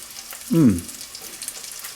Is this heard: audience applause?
no